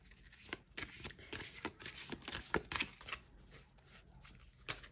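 Tarot cards being drawn and handled for a reading make a run of soft, close papery flicks and shuffles in an irregular rhythm, with no voices.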